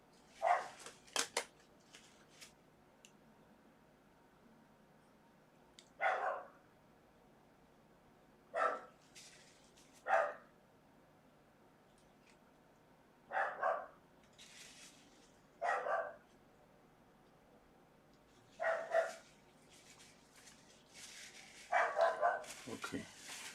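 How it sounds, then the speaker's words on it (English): A dog barks in short bursts from somewhere in the room during a live portrait painting session, the barks spaced irregularly over a quiet background with occasional soft talk. "Sorry about the dog."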